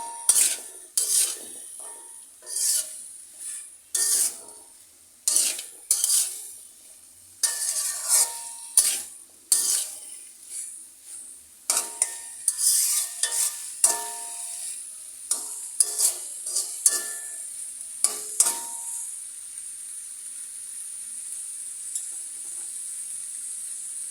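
Taro stolons are stirred and sautéed with spices in a pan over high heat, with repeated scraping and clinking strokes of a utensil over a steady sizzle that continues alone once the stirring stops, near and moderately loud.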